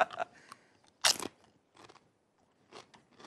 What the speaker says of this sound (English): Folks at home could probably hear the crunching.